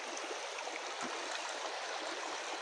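A forest stream flows near Gunjana waterfall, a dense, continuous rushing wash of water that stays loud and even throughout.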